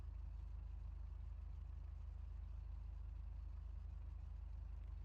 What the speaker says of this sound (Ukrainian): а, заведений двигун, все добре